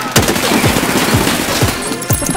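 Loud, close automatic gunfire in the shooter game Escape From Tarkov, rapid bursts of shots with sharp echoing cracks repeating steadily throughout.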